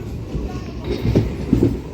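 A MEMU commuter train pulls out of Srikalahasti railway station, its low rumble and wheel clatter rolling steadily and close throughout.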